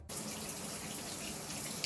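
Steady shower water runs and splashes close by while deep conditioner is rinsed out of curly hair, a constant hiss with no pauses and no talk.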